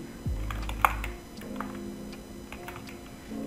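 A computer keyboard is typed on quietly at close range with a few sparse, irregular key clicks over a low background hum.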